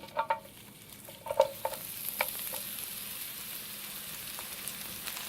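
Chopped red onion frying in canola oil in a pan, with a steady sizzle and a few sharp scraping stirs near the start, then continuous frying hiss to the end.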